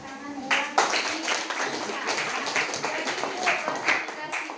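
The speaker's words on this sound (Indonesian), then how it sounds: "Tepuk tangan ya." High school students in a classroom clap in a short, uneven burst of scattered hand claps, with voices talking through it.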